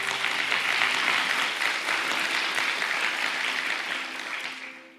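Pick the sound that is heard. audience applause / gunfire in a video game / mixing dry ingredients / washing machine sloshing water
audience applause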